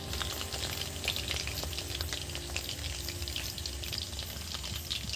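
Chicken pakoras fry in hot oil with a steady, dense sizzle and crackle, faint and continuous throughout with no talking.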